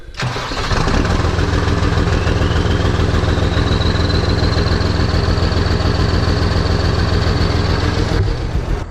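A New Holland TS115A tractor engine cranks briefly, catches and settles into a loud, steady diesel run close by, with a faint rising whine over the rumble and no talk.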